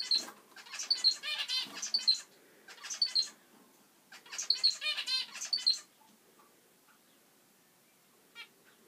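Bursts of high, rapid chirping from pet zebra finches come in clusters, close and fairly clear, then fade to quiet with one faint call near the end.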